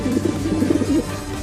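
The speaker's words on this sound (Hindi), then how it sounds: "कबूतर की आवाज आ रही है" A pigeon cooing near a house, soft low repeated coos in a steady murmuring rhythm, fairly close and alone with no talk.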